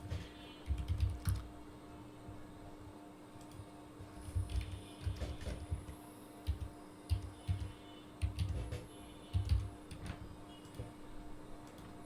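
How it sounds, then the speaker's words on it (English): Typing on a computer keyboard: quick, uneven bursts of soft key clicks and taps, close and quiet, with short pauses between runs over a steady electrical hum. "Like if you just type something here,"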